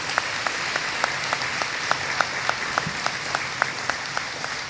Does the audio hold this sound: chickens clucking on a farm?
no